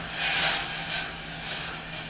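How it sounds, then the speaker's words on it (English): A pot of curry bubbles on the stove in a steady, hissing simmer with soft swells of sputtering, heard up close and without talking. "So that's boiling away nicely"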